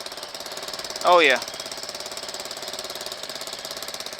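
A homebuilt reverse trike engine idles after starting, a fast steady chugging pulse close by, with a short sharp squeal and a man's brief remark near the start.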